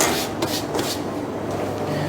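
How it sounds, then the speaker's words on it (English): A cloth wipes a chopping board in a kitchen, a few quick scrubbing rubs followed by a softer continuous swipe, close and fairly loud. "So I will clean up my chopping board."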